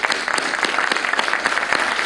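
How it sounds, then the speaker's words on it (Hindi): A crowd at a televised student exam-advice programme claps loudly and continuously for about two seconds, the many hands blending into a bright, close, unbroken patter. "आप सबसे तो जोर की तालियां बजती।"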